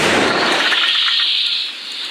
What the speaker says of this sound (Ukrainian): за лічені хвилини наводять гаубицю. Постріл!